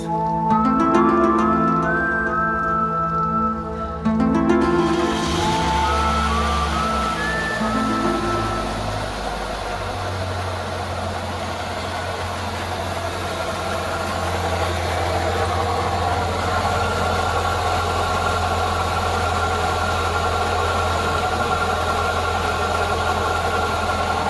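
A Toyota Corolla engine cranks and fires, then settles into a steady, close idle with a low rumbling drone that runs unbroken to the end, with no one speaking.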